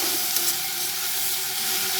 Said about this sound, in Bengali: মশলা মাখা মাছগুলো দেওয়ার পর আরও 2 মিনিট ভালো করে কষিয়ে নেব।